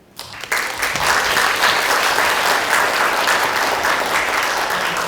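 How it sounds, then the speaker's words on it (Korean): A sudden, loud, sustained burst of applause from a large audience at a political forum lecture, welcoming a lawmaker to the stage. Dense clapping starts abruptly and holds steady at full strength. "큰 박수로 환영해 주시기 바랍니다."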